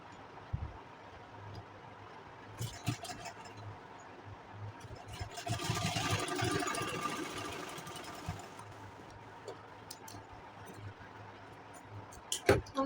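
A sewing machine runs a double line of stitching on an Anarkali gown, with a soft mechanical whir that swells in the middle and tapers off, fairly quiet, alongside light handling noises.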